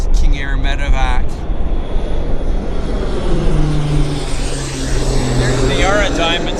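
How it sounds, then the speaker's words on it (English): A King Air propeller airplane, a medevac flight, passes overhead near an airport, its steady engine drone filling the clip with a low propeller hum. A voice speaks briefly at the start. "It's a King Air medevac."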